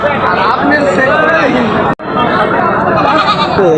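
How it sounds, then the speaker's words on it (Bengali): Goats bleat loudly and repeatedly at a busy livestock market in Natore, Bangladesh, overlapping cries close by over a crowd's chatter and talking voices, with a brief cut near the middle. "ছাগলগুলো আমি দেখালাম"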